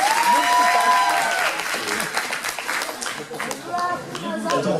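Crowd clapping at a cosplay parade runs throughout, moderately loud and uneven, with an announcer talking and a voice briefly heard over the applause.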